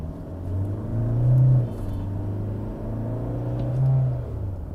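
Toyota Hilux GR Sport pickup accelerating in Power mode, its engine rumbling steadily as it builds speed, with two rising surges as it shifts gears, heard from inside the cabin.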